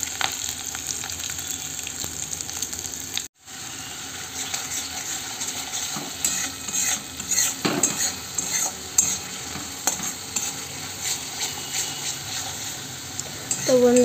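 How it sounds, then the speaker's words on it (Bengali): Potatoes lightly frying in oil in a kadai make a constant dense sizzle throughout, broken briefly by a moment of near silence, with occasional stirring scrapes and clinks close by. "বন্ধুরা, আলুটা ভাজতে দিয়েছি, হালকা করে আলুটা একটু ভেজে নেব।"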